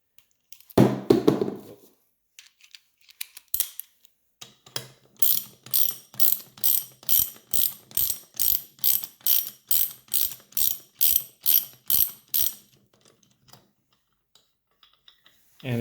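A valve spring compressor tool is released on a Honda B18 non-VTEC/B20 engine in a steady run of about fifteen evenly spaced, close ratcheting clicks, preceded by a few heavier knocks and clunks.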